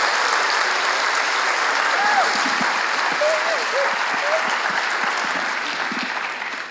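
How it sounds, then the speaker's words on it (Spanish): Audience applause after a data science talk, a loud continuous clapping with a few faint voices and whoops mixed in, tapering slightly toward the end. "Un aplauso fuerte para las chicas."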